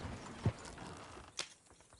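Horses in Red Dead Redemption 2 give two soft, muffled hoof thuds about a second apart over quiet ambience, fairly faint and with no talk.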